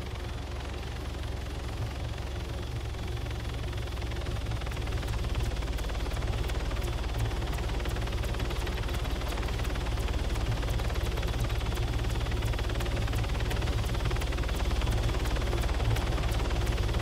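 A military helicopter in the video game Arma 3 roars loudly and continuously, its heavy rotor thump and turbine whine filling the scene without pause, with no talking over it.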